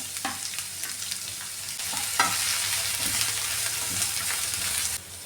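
Onions, green chillies and curry leaves frying in a pan for a Kerala-style beans stir fry, a steady close sizzle with sharp crackles and pops and a few spatula scrapes, ending abruptly.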